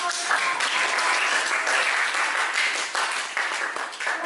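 A classroom full of students applauds the osmosis group after a lesson on passive transport, and the clapping stays dense and steady for several seconds, with a faint voice beneath it.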